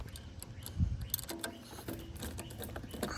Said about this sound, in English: I've got a 7mm socket with a long extension on it that I'm gonna attempt to reach down there